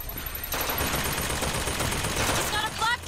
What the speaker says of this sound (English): He's got a flak cannon!